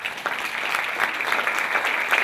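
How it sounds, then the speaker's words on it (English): An audience at a Pan Am Clippers talk in Hawaii applauds Don in a standing ovation, a full burst of steady clapping throughout. "give Don a big round of applause"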